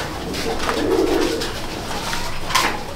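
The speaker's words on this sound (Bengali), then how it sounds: "এটা শুধু শৌখিন পায়রা, শুধু পেয়ার বসানো আছে" Fancy pigeons coo in a loft in Howrah, soft repeated throaty calls running through the full three seconds amid a busy room murmur, with a brighter louder call near the end.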